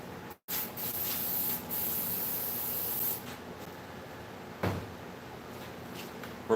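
A coating is sprayed onto a workpiece in a shop as a steady hiss that runs for several seconds, breaks off briefly, then continues at a quieter level with a few small clicks and handling noises.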